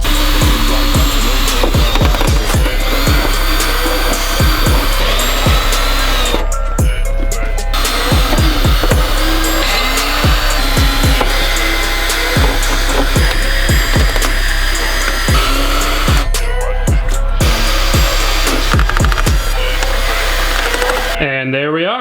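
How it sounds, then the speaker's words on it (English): Power tool driving self-tapping screws into Miata fender flares, heard as short repeated whirring bursts, each climbing in pitch and stopping, with brief pauses between screws, loud and close against steady background noise. "For now, I'm gonna be using self-tapper screws."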